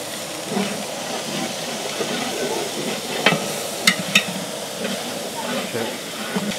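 Garlic paste frying in a pan for a South Indian village-style mutton curry, a steady close hiss and sizzle with a few sharp clinks of a utensil against the pan.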